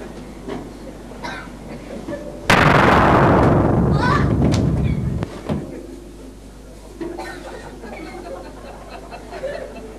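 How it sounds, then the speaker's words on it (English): A loud bomb explosion sound effect bursts out during a high school stage production of The Pink Panther. The sudden roaring blast decays over a couple of seconds, then quiet hall ambience follows. "there's just been an explosion in my apartment"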